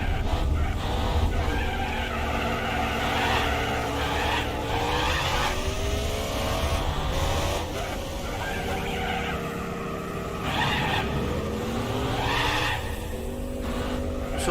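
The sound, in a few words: race car wheel spinning in first gear, Gran Turismo 4 video game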